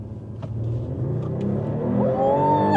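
A Mercedes CLE 53 AMG coupé with its six-cylinder engine in sport mode accelerates hard from 40 to 120, a rising engine note climbing steadily in pitch and loudness over a few seconds with no talk.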